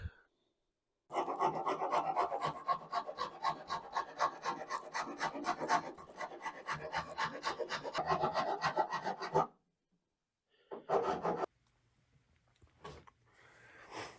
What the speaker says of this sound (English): I was going to use a spoke shave, but the file seems to be doing quicker work.